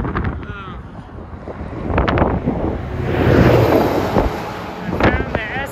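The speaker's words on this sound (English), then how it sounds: "I cannot even pedal with my drivetrain slip in and this headwind." Strong headwind buffets the microphone while cycling with a slipping drivetrain, a broad roaring wind noise that swells and eases, with a person's voice briefly audible over it.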